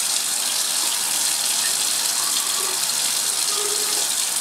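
A steady, loud pour of 68% nitric acid into a laboratory beaker, a continuous close splashing gush of liquid with no voices.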